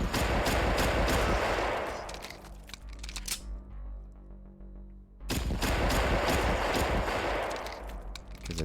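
Video game gunfire, sustained rapid automatic bursts loud and close, breaking off into a short lull before another dense burst resumes.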